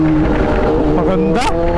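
Kawasaki Z H2 motorcycle engine during a clutchless downshift: a loud, close engine roar with shifting pitch and a quick rev blip partway through, with someone talking over it.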